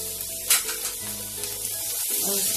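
Carrots, peas and capsicum sizzle in a hot pan, with a steady crackling hiss, a few louder spits and a faint stirring clink, close throughout.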